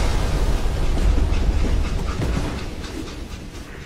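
Train in the Call of Juarez Gunslinger video game, its express car detached: a continuous loud rumble and rattle of rolling rail cars that eases slightly toward the end, with no talk.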